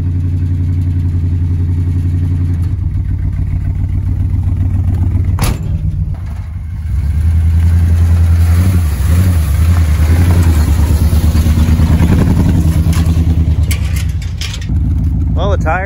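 A 1977 Dodge W100 Stepside four-wheel-drive pickup truck's engine runs loud and close, a low steady rumble that dips briefly then swells again, with a few sharp clacks and someone talking over it.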